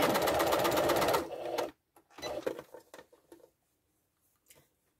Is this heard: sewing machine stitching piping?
yes